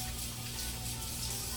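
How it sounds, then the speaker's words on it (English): Running tap water splashes steadily into a kitchen sink as hands are rinsed during mango salsa prep, a continuous close wash with no voices. "let me rinse my hands off"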